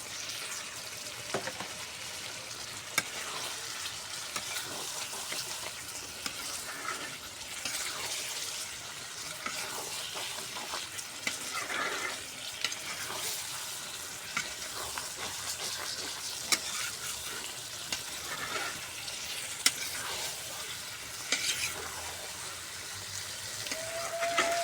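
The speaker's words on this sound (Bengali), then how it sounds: "এখন মাংসের মধ্যে আমি ভাজা আলুগুলো দিয়ে দেব।" Fried potatoes stirred into meat in a pan, giving a steady close sizzle and frying hiss with scattered scraping and stirring clicks throughout, no voices.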